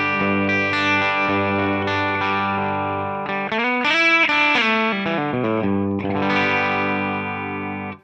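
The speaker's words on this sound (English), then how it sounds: "I'm playing my Gibson SG on its bridge pickup." A Gibson SG electric guitar on its bridge pickup plays distorted chords and riffs through a Tonex amp modeler pedal, loud and close, with sustained ringing notes and some echo.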